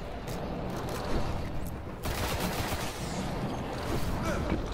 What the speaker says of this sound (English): that ship took a shot pot shot at me